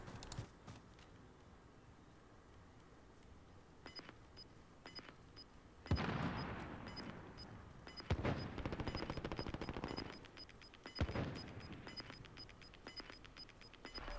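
Gunfire rattles through a gunfight in the battle royale game Warzone: scattered single shots, then louder bursts of automatic fire around the middle and later, all fairly distant and somewhat muffled, with no voices.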